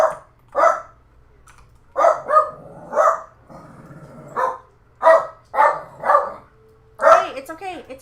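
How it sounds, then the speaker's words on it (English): A dog barks in several loud, close bursts while people talk nearby, with faint keyboard typing underneath. "Sorry, my dog's losing his mind for some reason."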